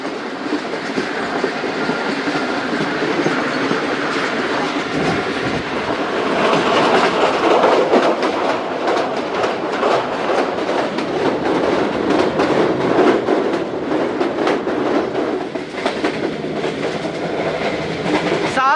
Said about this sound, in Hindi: अब्दुल हकीम रेलवे स्टेशन पास हो रही है ट्रेन हमारी